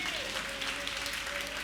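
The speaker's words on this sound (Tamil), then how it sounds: "கைத்தட்டு துதி" A church congregation claps in praise during a Sunday service, a sustained burst of many hands clapping together while a voice rises over the applause.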